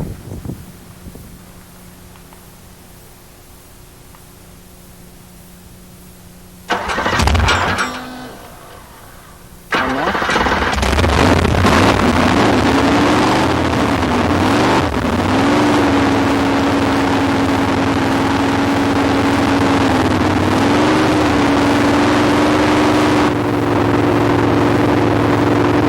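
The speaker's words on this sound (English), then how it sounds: "let's go ahead and start the engine now" A car engine fitted with a Demon carburetor cranks with a brief burst, pauses, then fires and settles into a loud, steady idle. The revs rise and fall in smooth swells before holding steady, with no voices over it.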